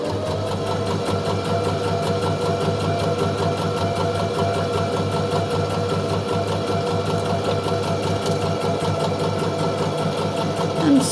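Sewing machine running steadily throughout while stitching a seam around a fabric pumpkin, a continuous mechanical whir with a fast repetitive needle beat, close and moderately loud with no talking.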